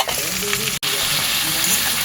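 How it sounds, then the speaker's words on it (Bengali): Ginger, chili powder, turmeric and cumin sizzle steadily while being stirred in a hot pan, a close, continuous frying hiss with a brief dropout partway through. "দিয়ে আমি এটাকে ভালো করে কষবো"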